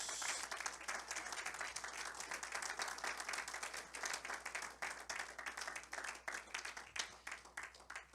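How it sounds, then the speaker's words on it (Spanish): Congregation at a church service applauding for Christ, a steady run of dense clapping filling the whole stretch at moderate, slightly distant level, with no talk over it. "Denle un aplauso a Cristo Jesús."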